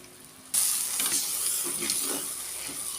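Ginger and garlic mixture sizzling in a hot pan, a sudden loud hiss bursts in after a quiet moment and keeps going under stirring sounds, near and with no talking.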